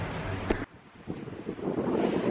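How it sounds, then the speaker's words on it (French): Gusty wind buffets the microphone in a low, rumbling roar, with a sharp knock early on, then steady blustering noise, at Bormes-les-Mimosas. "Il y a trop de vent."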